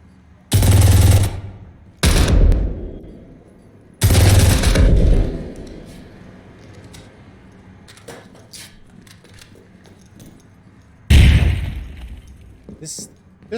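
Several short bursts of video game gunfire during a competitive esports elimination match, loud and broadband, with quieter scattered shots and game noise between bursts and a final burst near the end.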